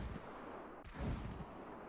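A Barrett M82 rifle fires at a turret in the survival game SCUM: one sharp, fairly faint report cracks out about midway, followed by a short rumbling tail over a low background.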